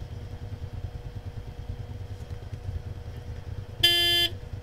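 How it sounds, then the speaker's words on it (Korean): A car horn in the video game Arma 3, played with the Life mod, gives one short, bright honk near the end of the clip over a continuous low engine rumble, with no voices. "빵빵거리지 마. 누가 빵빵거렸어?"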